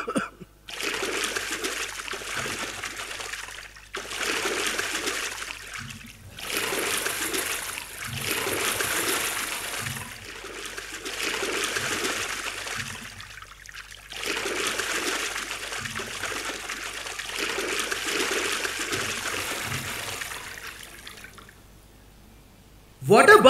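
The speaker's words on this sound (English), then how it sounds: "Shall we wash the dust off with water, my lord?" Water splashes and trickles against a wall as dust is washed off, coming in several long, steady bursts with short pauses between them.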